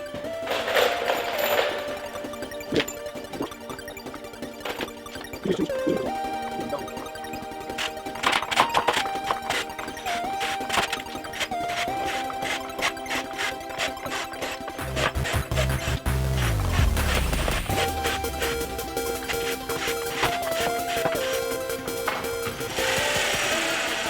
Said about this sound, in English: And now we're just putting the screws in beforehand.